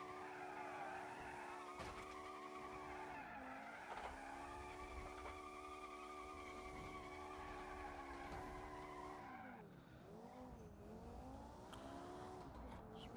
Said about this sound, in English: Do some pretty good burnouts.